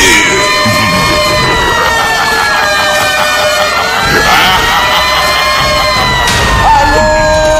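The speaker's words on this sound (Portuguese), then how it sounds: "Atenção! Podem soar as sirenes." Sirens wail in rising and falling sweeps during a live DJ set at a beach club, loud and continuous over crowd noise and music.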